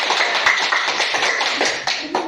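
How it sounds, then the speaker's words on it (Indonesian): A classroom group claps for the school headmistress, a brisk uneven burst of many hands close by, loud and sustained with scattered sharper smacks. "Tepuk tangan buat Mama Kepsek."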